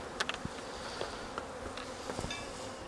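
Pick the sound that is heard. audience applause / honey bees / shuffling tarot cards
honey bees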